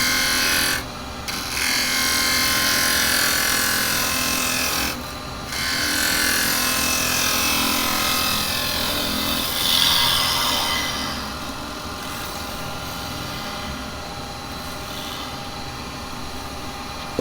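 A carbide chisel cuts wood spinning on a lathe, a steady close whirring grind with two brief interruptions and a softer stretch toward the end.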